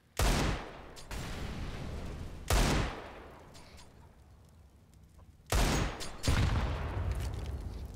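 Loud Desert Eagle and pistol fire in a competitive Counter-Strike match, with three separate bursts of close shots each trailing into a reverberant tail, and no voices.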